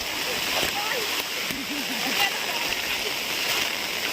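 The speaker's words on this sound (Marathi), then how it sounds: "मे महिन्यामध्ये बघा किती मोठ्या प्रमाणावरती नदीला पाणी आलं आहे" A swollen river in Konkan, Maharashtra, rushes during heavy monsoon rain, a steady broadband roar throughout, with a voice briefly talking over the flow partway through.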